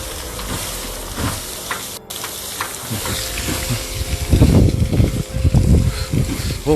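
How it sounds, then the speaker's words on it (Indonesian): Thick liquid mud bursting high out of the ground in Sepinggan, Balikpapan, a steady hissing, churning gush that swells louder toward the end, with people talking nearby. "Ada cairan kental muncrat dari tanah. Tinggi sekali, besar sekali."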